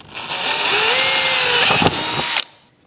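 A power drill drives a screw to fix an aluminium batten over grow film onto a frame, giving a loud, close, steady whine that rises in pitch and stops abruptly after about two and a half seconds.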